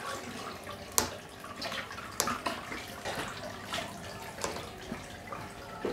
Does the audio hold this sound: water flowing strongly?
yes